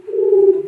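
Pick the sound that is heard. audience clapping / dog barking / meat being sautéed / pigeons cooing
pigeons cooing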